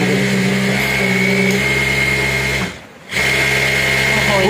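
A MAQI Q1 sewing machine running at high speed, a steady loud whirring motor hum that cuts out briefly near the end and then resumes.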